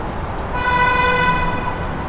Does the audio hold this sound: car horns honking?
yes